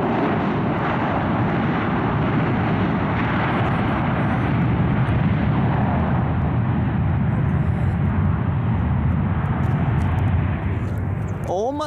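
A fixed-wing airliner at San Jose airport (KSJC) roars nearby, a loud steady engine rumble holding for the whole stretch, with a brief whistling sweep near the end.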